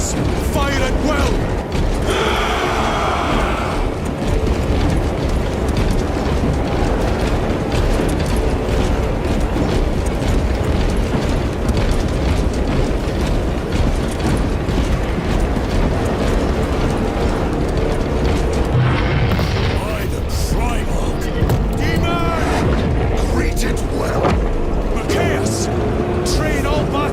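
Gunfire and explosions from the Warhammer 40K Space Marine 2 cinematic: a loud, dense, unbroken battle din of rumbling blasts and mechanical clatter.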